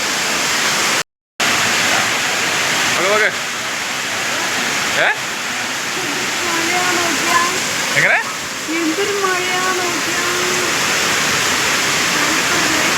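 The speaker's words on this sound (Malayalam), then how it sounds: "നല്ല മഴയാണ് പുറത്ത്, ശക്തമായ മഴ." Heavy rain falls outside a resort room in Wayanad, a loud, unbroken hiss that fills the whole stretch while a voice talks briefly over it.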